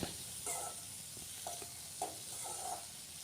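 Coriander chutney ingredients with grated coconut being stirred in a pan, giving soft scraping strokes over a faint sizzle. The sound is quiet and close, with a few separate spoon movements.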